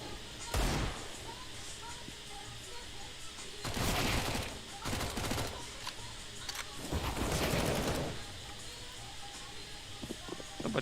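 Mac-10 submachine gun fire in the Counter-Strike video game, with several short bursts of rapid shots spread across the clip over steady game background noise, with no talking.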